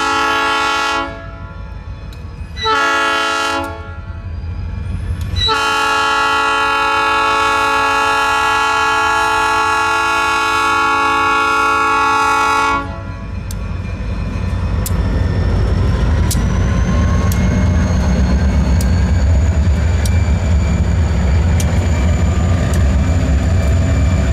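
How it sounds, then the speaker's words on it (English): A freight train led by classic GE Dash 7 locomotives sounds its loud multi-tone horn in several blasts, short ones and then one long one, before the heavy rumble of the passing engines and wagons swells and continues. "our train would continue eastbound towards the interchange"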